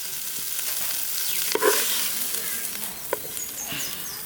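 Banana leaves sauté in a pan for chutney, a steady soft sizzle with a few louder stir scrapes near the middle and later, close and moderately quiet with no talking.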